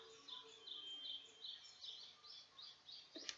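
Birds chirp and trill repeatedly in quick, high bursts through a quiet outdoor scene, fairly loud and continuous, with no talking.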